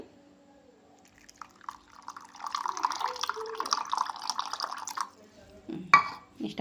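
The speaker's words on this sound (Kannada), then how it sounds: "ಇದಕ್ಕೆ ಹುಣ್ಸೆ ಹಣ್ಣು ರಸ ಹಾಕ್ತೀನಿ ನೋಡಿರಿ" Tamarind juice is poured into a pan of North Karnataka stuffed brinjal curry, making a close trickling, splashing pour with some drips, ending in a brief clatter of the pan.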